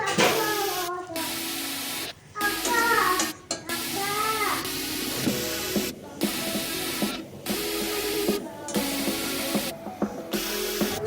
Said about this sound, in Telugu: ఇలా చేసుకున్న పూరీలు ఇలా మొత్తం అన్నీ కూడా ఫ్రై చేసేసుకొని వేస్తున్నాం